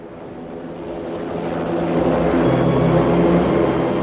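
A helicopter flies overhead, its steady engine and rotor drone swelling gradually louder and staying close and continuous to the end, with no talk.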